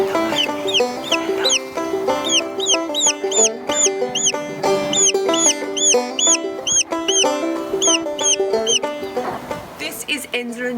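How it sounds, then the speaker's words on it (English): Chinese silkie chicken chicks and other chickens in a Glenrowan garden, giving rapid high peeping and clucking calls in busy bursts, close and fairly loud, with a voice talking underneath. "I have a little Chinese silky chick in my hands here."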